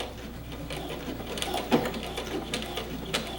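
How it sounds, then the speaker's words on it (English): A sewing machine back-stitches at the end of a shirt pocket seam, a brief close mechanical whirring with a few quick ticks and a small knock midway. "So I'm at the end, so I'm going to do a back stitch."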